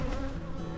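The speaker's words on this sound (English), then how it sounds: "the bees out here greeting me" Honeybees buzz around a beekeeper in an outdoor apiary during early April, a steady close hum of insect wings, fairly faint and continuous, without talk.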